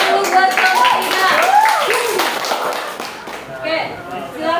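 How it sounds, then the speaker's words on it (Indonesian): A school class claps for a student group, brisk hand claps mixed with children's lively voices and a teacher speaking, fading out toward the end. "Tepuk tangan dulu buat kelompok 3."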